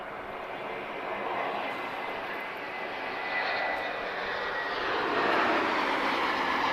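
An Airbus A321neo with Pratt & Whitney 1000G series engines arrives at Lisbon Airport, its engine roar steady and broad, swelling gradually louder as it approaches, with no talking.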